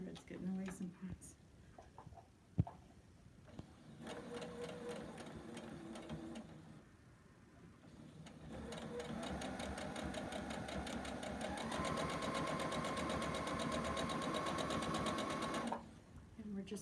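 A sewing machine chain-pieces quilt pieces in bursts: a short run early, then longer continuous whirring stitching that builds and holds for several seconds, with someone talking between and over the runs.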